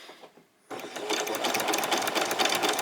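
A sewing machine stitches swimsuit fabric, starting after a short pause and then running steadily with a rapid, even mechanical rattle, close and moderately loud with no talk.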